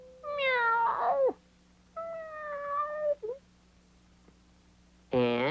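Cat meows, three drawn-out, clear calls separated by short pauses, close and fairly loud with quiet between them.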